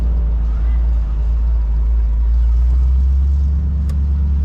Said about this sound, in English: Good old small block.